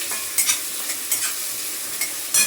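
Onion and tomato sautéing in a hot pan with potato and cauliflower nearby, a steady sizzle broken by a few sharp scraping stirs, close and fairly loud with no talking.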